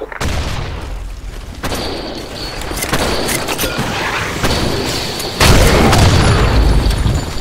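Bomb exploding in the BlackShot shooter game, a loud, heavy boom near the end of a noisy stretch of game action with scattered bursts and cracks, rumbling on afterward.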